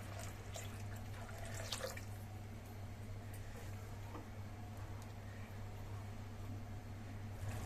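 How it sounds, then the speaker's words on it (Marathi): A mixer jar is rinsed out with water, a quiet, distant patter of trickling and dripping with a few faint clinks early on over a steady low hum, and no one speaks. "मिक्सरचं भांडं धुवून घेऊया"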